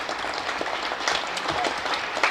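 A cricket crowd at a county match between Essex and Durham applauds a departing batsman, a steady patter of clapping from many spectators at a moderate distance.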